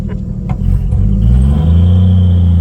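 A 1956 Chevy 210 engine rumbles low and strong as the old car pulls away and drives, the tone rising into a steady, close, loud drone after a brief quieter start.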